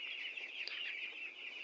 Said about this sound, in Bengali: এটা হচ্ছে আমার মুরগির খামার